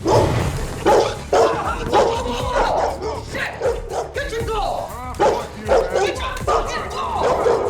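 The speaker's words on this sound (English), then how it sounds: "Zeke is confronted by an aggressive dog" A dog barks and yips aggressively in repeated bursts, mixed with whimpers, close and loud, with voices talking throughout.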